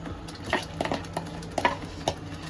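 Dried chili mixture frying in mustard oil, a low sizzle under repeated close scraping and stirring strokes against the pan in an uneven rhythm, no talking.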